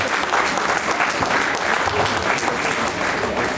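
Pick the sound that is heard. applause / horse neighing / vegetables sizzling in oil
applause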